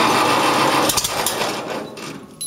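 A 1973 IH Farmall 140 tractor engine cranks and tries to catch without choke, a loud, steady mechanical churn close by that falters and thins out toward the end.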